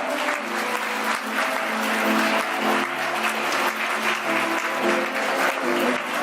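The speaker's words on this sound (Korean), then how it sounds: "예빈 여러분 큰 박수로 신랑님을 맞으시기 바랍니다" Wedding guests applaud the groom as he enters, a full, continuous burst of clapping from a large crowd that holds loud and even for several seconds, with music faintly sounding underneath.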